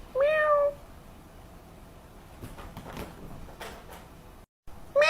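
A person imitates a cat meow twice, a clear, close, drawn-out mew at the start and a shorter one cut off at the end, with faint indoor background in between.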